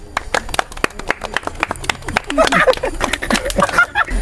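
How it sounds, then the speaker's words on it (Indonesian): Clapping from a small group of friends at a podcast recording, sharp irregular claps that build into a denser burst, with voices and whoops mixed in. "Tepuk tangan buat kita semua"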